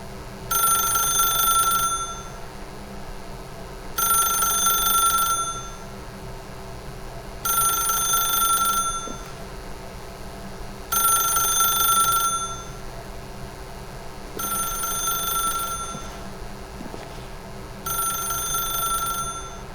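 A telephone in The Stanley Parable video game rings in six regular double-burst rings, each about two seconds long with short pauses between, bright and steady over a faint low hum, with no talking.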